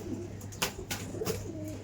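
Brief, quiet cooing from a Fulshira Pilanka flying pigeon held at a loft in Behala, a couple of low soft coos broken by a few sharp clicks and rustles.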